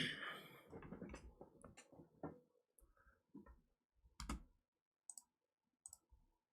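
Computer keyboard keys clicking in short, sparse bursts, faint and close, over a quiet room.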